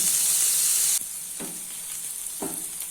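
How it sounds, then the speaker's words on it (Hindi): Onions frying in a pan over a medium flame for mutton curry, with a loud hissing sizzle that drops after the first second, then two scraping stirs through the sizzling oil. "ऑनियन को मीडियम फ्लेम पे गोल्डन ब्राउन होने तक फ्राई कर लेना है।"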